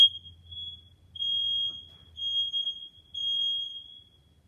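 A household smoke alarm under test in a bedroom gives a sharp, piercing high-pitched beep repeated three times in a steady pattern, loud and close, with short silent gaps between.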